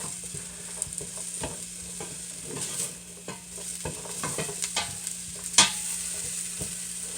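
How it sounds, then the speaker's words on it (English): Okra sautéing in a pot, a soft continuous sizzle broken by scattered stirring scrapes and clinks of a utensil against the pot, close and moderately loud, with no voices. "let me kind of saute these just to get their natural"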